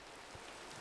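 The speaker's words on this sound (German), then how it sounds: "Und es regnet schon wieder." Rain falls in the video game Minecraft at night, a soft, steady hiss of drops lasting under a second, faint and uninterrupted.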